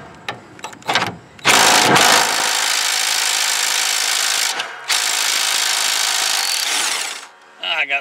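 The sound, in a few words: impact wrench loosening a 19 mm nut on a lawn tractor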